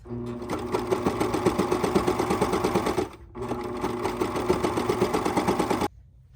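A serger overlocks a seam on a sweatshirt, running in two steady bursts of rapid, even stitching clatter with a brief pause between, close and loud, then stopping.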